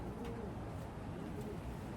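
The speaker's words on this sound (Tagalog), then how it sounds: "Ayan, may ibon tayo isa." A racing pigeon coos softly as it arrives home from a 285 km race from Wetherby, its call faint beneath steady wind and outdoor rumble.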